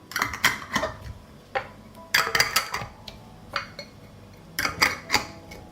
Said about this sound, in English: I close the jars with clean lids.